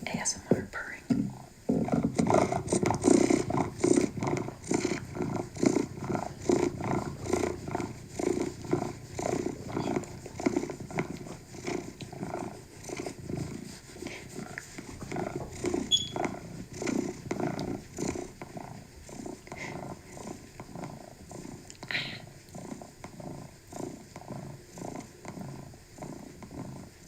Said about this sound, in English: ASMR purring.